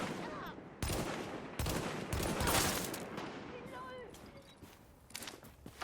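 Gunfire from The Division during a co-op side mission, bursts of rapid shots and heavy reports over continuous combat noise, with people talking through the fight.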